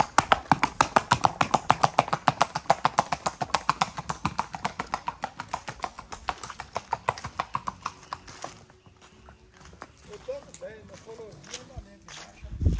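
Horse hooves clip-clopping at a steady, even walk on a farm, a close run of crisp rhythmic clops that slows and fades out near the end, with people talking.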